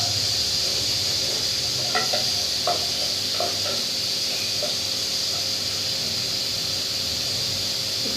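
Chopped onions frying in hot oil in a pan while cooking veg stew make a steady, close sizzling hiss throughout, with a few light clinks from a utensil near the middle.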